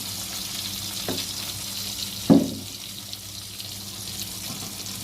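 Koi fish frying in oil in a pan, a steady sizzle broken by a couple of sharp bursts as more oil goes in.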